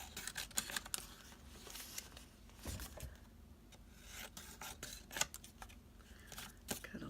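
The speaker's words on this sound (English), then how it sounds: "Which I could cut this down actually. What if I went straight down the side?" Scissors snipping through paper trimmed for a quilt-cover journal, a close, quiet run of irregular crisp cuts and rustles, with no one talking.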